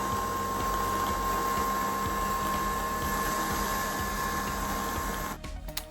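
A Nespresso Vertuo coffee machine brewing a refilled pod hums and whirs steadily with a constant mechanical drone and a faint high tone, then winds down near the end.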